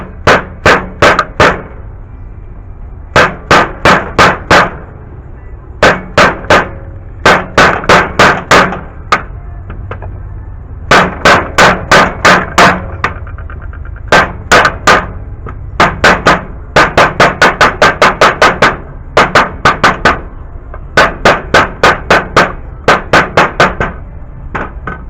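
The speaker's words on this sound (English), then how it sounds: "I was just kind of like hammering it in as I go, gently pushing it in." Loud, close hammer blows seat a Chevy Silverado V8 oil pump (4.8L to 6.2L) into place, struck in quick bursts of several taps separated by short pauses throughout.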